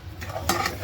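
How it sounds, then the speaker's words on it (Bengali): Semolina is fried in a pan while a spoon stirs it for a Janmashtami offering. There is a soft, close sizzle with scraping stir strokes, and a sharper scrape comes midway through the short stretch. "সুজিটা ভাজছি প্রথমে।"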